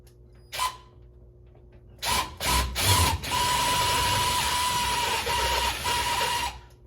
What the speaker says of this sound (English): Take my unibit in reverse.